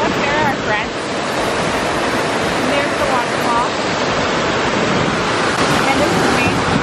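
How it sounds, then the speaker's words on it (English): Constant roaring rush of a waterfall, loud and broadband, with faint voices briefly audible beneath it, near Jackson Hole, Wyoming. "And there's the waterfall."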